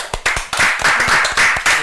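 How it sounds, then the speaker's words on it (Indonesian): A small group claps by hand, irregular close sharp slaps in quick bursts over about two seconds, loud and near with no talk over it. "tepuk tangan."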